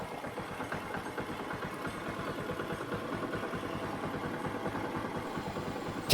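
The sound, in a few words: Honda Karisma X motorcycle engine idling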